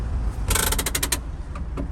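A car door on a bus creaks loudly in a short burst of rapid, grinding ratchet-like pulses, close by, followed by a couple of fainter clicks.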